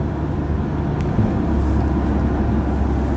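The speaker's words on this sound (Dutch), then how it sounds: "Nou, ik zit in de bus." Steady, loud rumble of a moving bus from inside the cabin, a continuous engine and road drone with no voices.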